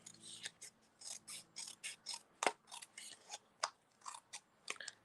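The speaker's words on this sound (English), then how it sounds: "or you could just cut it with scissors" Repeated snips of scissors cutting through paper, close and crisp, in an uneven rhythm of short cuts.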